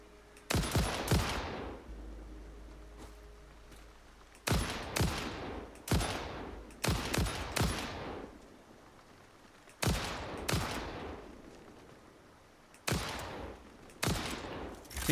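Gunshots ring out in Satisfactory in short, loud bursts and single cracks with decaying tails, spaced a second or two apart, sometimes doubled, against a quiet background with no talk.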